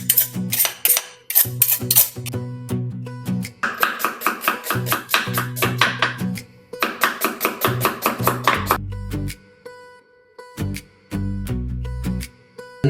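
Green chilies, ginger, garlic, coriander, mint and a carrot chopped for biryani: rapid bursts of sharp knife knocks on a board, loud and close, broken by short pauses.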